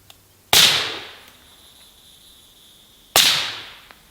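Two suppressed gunshots fired through PTR Vent 3 and Radical Defense LS 5 suppressors, each a loud sharp crack with a decaying tail, spaced about two and a half seconds apart outdoors.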